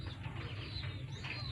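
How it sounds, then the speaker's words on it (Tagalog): A pigeon being loaded into a cardboard box for a race transport, giving soft coos with faint rustling over a steady low hum, at low level with no talk. "At ito na yung ibon ni Misteryoso Love."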